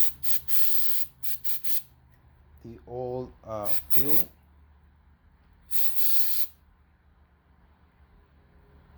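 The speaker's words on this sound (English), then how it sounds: "We got some carb cleaner right here, so we're gonna spray this thing" Carb cleaner is sprayed into a small generator engine's carburetor in several loud hissing bursts, short and sharp, with someone briefly talking in between.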